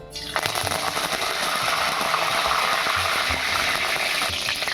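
Curry leaves sizzling in hot oil in a kadhai, giving a loud, steady, crackling fry that starts abruptly as they hit the oil and continues throughout, with occasional low clatter from utensils.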